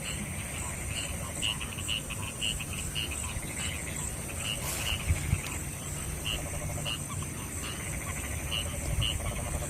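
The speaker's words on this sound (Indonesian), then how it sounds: "Ya jangkrik." Crickets chirp steadily and densely in a rice field at night, a continuous high trill layered with rapid pulsing calls, with occasional thumps and faint rustling nearby.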